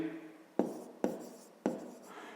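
Chalk or marker writing on a board during a fifth-grade math lesson: three quick scratchy strokes, close and fairly quiet, with no talk.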